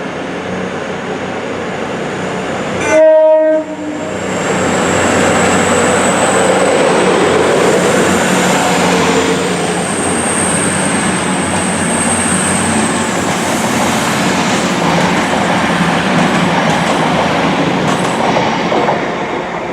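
A class 156 diesel unit at Derby sounds a short, loud horn blast, then its engine and wheels rumble steadily close by as it moves along the platform.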